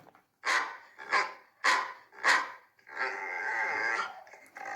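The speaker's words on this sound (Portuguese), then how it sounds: "É o cachorro." A dog barking four times in a spaced, loud series, followed by a longer drawn-out growling whine and a short final bark, close and clear against silence.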